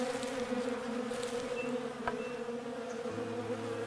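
Bees buzz around a hive in the survival video game Above Snakes, a continuous close droning hum with slight wavering and a soft thud midway, with no talking.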